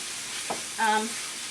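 Food frying in a pan on a gas stove, a steady close hiss of sizzling with a faint short voice sound over it.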